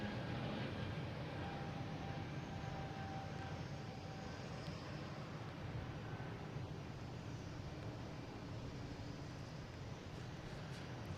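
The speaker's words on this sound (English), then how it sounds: "Got JetBlue here heading to Pittsburgh in A220" A JetBlue Airbus A220 jet airliner at Boston Logan airport rumbles steadily in the distance, a low continuous roar with wind noise and no distinct peaks.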